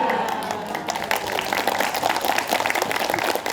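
A gathered audience at an Islamic study session applauds together, brisk continuous clapping with some crowd murmur and faint voices, held for a few seconds.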